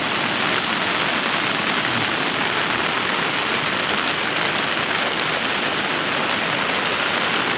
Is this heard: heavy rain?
yes